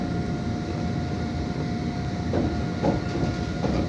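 A London Underground Hammersmith and City line train runs along the westbound track toward Wood Lane, giving a loud steady rumble with rhythmic wheel clatter as the carriages pass close by.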